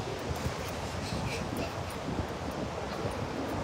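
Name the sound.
cold wind at the beach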